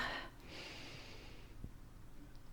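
A slow, breathy airflow during a morning yoga routine, soft and close, with a gentle rushing swell that fades, faint and alone without talk.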